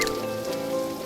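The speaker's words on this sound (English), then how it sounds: "walking in the pouring rain" Pouring rain in the animated series Bee and Puppycat, a steady patter of drops on a surface with a faint musical tone beneath, continuous and moderately loud, no talking.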